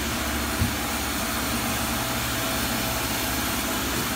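Reverse osmosis plant with a sand filter in operation, giving a steady, loud mechanical drone and hum of pumps and machinery that runs unbroken, with a single faint knock early on.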